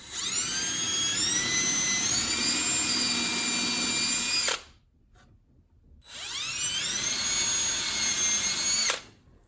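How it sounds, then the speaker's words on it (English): A power drill whines loudly through two long bursts with rising pitch as it bites into material, separated by a brief silent pause. "Drill a couple random holes in areas here."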